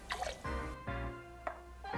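Lime juice poured into a cocktail glass for a Texas rodeo spring drink, heard as short close liquid drips and splashes in a few quick bursts against a quiet room background.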